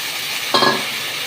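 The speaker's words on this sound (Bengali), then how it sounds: "পেঁয়াজগুলো এবার আমি খুব ভালো করে এখানে ভেজে নিচ্ছি" Sliced onions fry in a pan with a soft, steady sizzle, broken by a brief scraping stir of a spoon midway.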